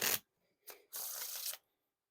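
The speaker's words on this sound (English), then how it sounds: "So the riffle shuffles are pretty smooth here." Bicycle playing cards riffle-shuffled, a thick deck still breaking in: three short crisp bursts of riffling, a brief one, a short one, then a longer half-second cascade, close and alone with no talk.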